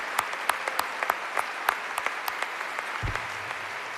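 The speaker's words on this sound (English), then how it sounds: "let's give them another round of applause for the great work that you're doing" An audience applauds at a climate summit opening, fairly distant clapping with a few distinct sharp claps popping above the wash, a low thump near the end.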